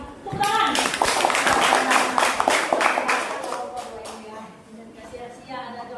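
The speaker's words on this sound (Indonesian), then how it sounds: "Tepuk tangan" A classroom audience claps together after a presentation, a burst of dense hand clapping that gradually thins and fades, with children's voices talking over the tail end.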